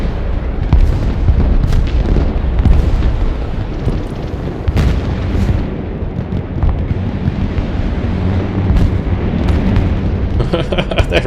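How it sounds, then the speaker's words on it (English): Heavy artillery barrages and explosions in the Broken Arrow war game, a dense rumbling series of booms and blasts that rolls on continuously, with a voice talking over the din. "Absolutely huge artillery here."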